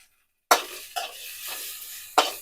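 Tomatoes and onions being sautéed in a pan. Three or four distinct spatula scrapes against the pan cut through a soft sizzle after a brief silence.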